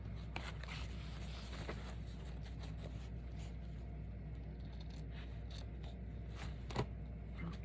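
Scissors cut material for a handmade journal, with a run of quiet, irregular snips and scraping closes heard up close in a hushed room.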